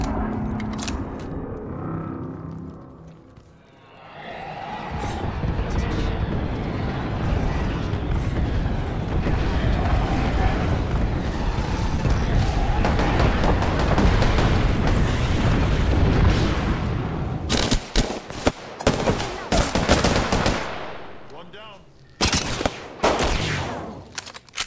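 An airstrike in Apex Legends sets off a long roaring barrage of explosions and booms with crackling gunfire, swelling into a sustained rumble before breaking into sharp, scattered blasts near the end.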